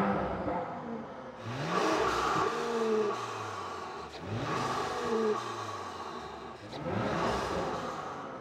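An Audi RS5 engine revs up and falls back three times, rising in pitch with each push, loud and close with no talk over it.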